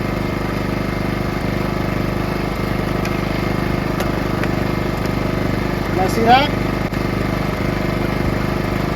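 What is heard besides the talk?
PowerSmart portable generator engine running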